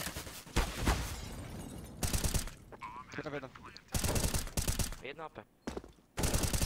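Video game gunfire comes in loud, dense automatic bursts that alternate with quieter stretches, while players talk briefly over the shooting.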